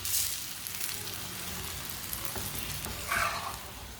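Pizza paratha fries in very hot oil on a stove, giving a steady close sizzle with a brief louder burst of spitting and crackling near the end as it is turned.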